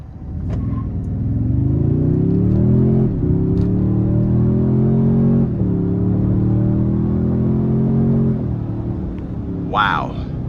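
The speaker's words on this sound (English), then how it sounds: "I'm gonna put it into sport mode next, and then we're gonna see about the acceleration getting on the interstate" A Toyota Tundra twin-turbo V6 hybrid pickup accelerates hard in sport mode onto an interstate. Its engine note climbs steadily through several gear shifts, loud and continuous from inside the cab.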